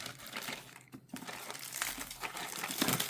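Plastic wrap around an MSI Forge GK600 TKL Wireless Sky keyboard crinkles in a steady run of close, sharp rustles, briefly pausing before resuming more loudly.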